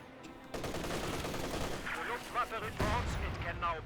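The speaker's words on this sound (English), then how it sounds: "That 120mm mortar is causing a lot of issues." Company of Heroes 2 battle with a 120mm mortar and machine guns firing: dense, continuous rattling gunfire with heavy thumping impacts, fairly loud and sustained throughout.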